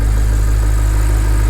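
A 2014 Audi R8's naturally aspirated 4.2 liter V8 idles with its rear engine cover open, a loud, steady, deep throbbing hum that holds constant and close throughout.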